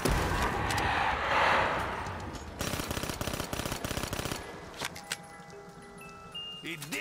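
Rapid SMG bursts from the Black Ops 3 Zombies video game rattle in a dense run near the middle, set among other game noise and effects, with no talk over them.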